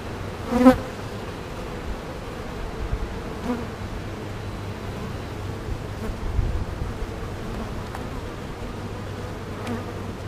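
A honeybee colony buzzes in an open hive during a June inspection, a steady dense hum throughout, with one bee droning loudly past close by near the start.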